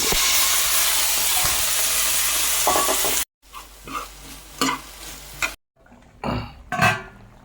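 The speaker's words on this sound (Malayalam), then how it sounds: "ഉണക്കമീൻ തിളച്ചുകൊണ്ടിരിക്കുന്നു സവോളയൊക്കെ വഴണ്ട് നമുക്ക് ഈ കോവയ്ക്ക് ഇതിലേക്ക് കൊടുക്കാം" Loud continuous sizzle of onions frying in a pan with dried fish, then it cuts out and quieter bursts of stirring and sizzling follow in short spells as ivy gourd is added.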